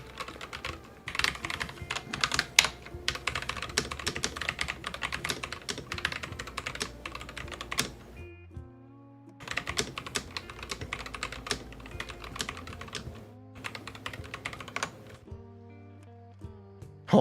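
Rapid clicking of a computer keyboard being typed on, with music playing underneath; it breaks off briefly midway, then resumes at a steady pace.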